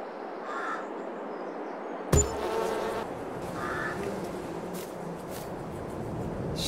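Bees buzz around a beehive in Farming Simulator 22, a soft insect hum under crow caws and game ambience, with a sudden thump part way through.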